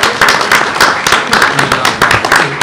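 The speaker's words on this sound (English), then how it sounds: "Let's give them a round of applause." Applause at a school board meeting honoring a high school program, a brisk burst of clapping from a modest indoor group filling the short span, with some faint talk mixed in.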